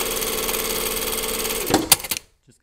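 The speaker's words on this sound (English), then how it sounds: "just going to stitch these two together" A sewing machine stitches tailored jacket pocket pieces together in a fast, steady whir, then slows with a few clunks and clicks before stopping into silence.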